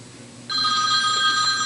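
A hospital telephone starts ringing partway through, its bright electronic bell loud and steady after a quiet room background.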